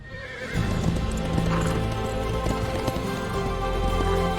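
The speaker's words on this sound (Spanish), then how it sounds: "Y así lo veremos montar a caballos" Horses in the fantasy film Damsel neigh and whinny over steady galloping hoofbeats, with a dense, continuous bed of film sound underneath; no talking.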